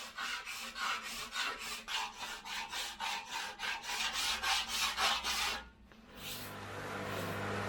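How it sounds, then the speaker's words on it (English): A rough 40-grit abrasive belt rasps against an old chrome car bumper in rapid, regular strokes, close and steady, then stops abruptly and gives way to a low motor hum with no talking. "we're starting out with a very rough belt, a 40 grit"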